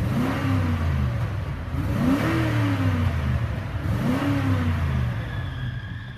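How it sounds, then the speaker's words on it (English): Engine of a 2008 Cadillac DTS Luxury III revved three times from idle, each rise swelling and falling back in a steady rhythm, close and loud with no talking. "Let me rev it up for you."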